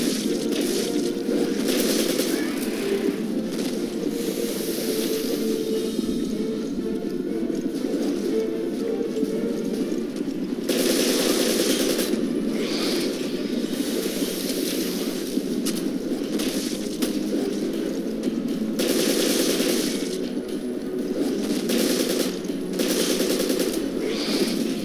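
Machine gun fire in Resident Evil Revelations: loud, dense rattling bursts that run almost nonstop, with brief dips between volleys.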